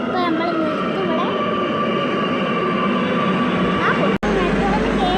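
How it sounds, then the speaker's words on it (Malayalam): A metro train bound for the Lulu Mall stop pulls into the station with a loud, sustained rumble, overlaid by metallic squealing tones from the wheels and a brief gap near the end. "ലുലു മാൾക്കുള്ള മെട്രോ ഇതാ വരുന്നു"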